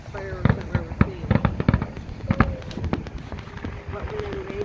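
A volley of sharp firework bangs and crackling pops rings out at the McHenry Fiesta Days show in 2021, coming in irregular clusters while onlookers chat nearby.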